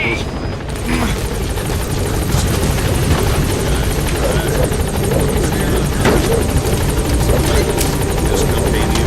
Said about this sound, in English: Board the chopper when you're ready for a mission